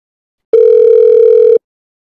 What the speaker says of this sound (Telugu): మా మావకే ఫోన్ చేస్తాను